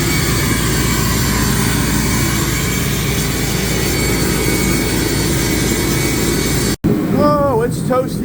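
Close to a running Ram 3500 pickup truck, a loud, steady, jet-like roar fills the air, then cuts off abruptly before a voice speaks near the end.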